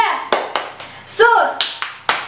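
Children clapping in a church worship chant, a series of sharp, distinct hand claps in rhythmic groups, close and loud, with a voice calling out briefly in the middle.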